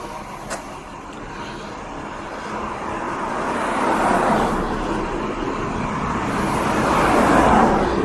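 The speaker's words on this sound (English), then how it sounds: "There's a work truck with a big diesel next to me" A big diesel engine idles on a nearby work truck outdoors during a morning walk, a steady low rumble that swells slightly and holds throughout with no talking.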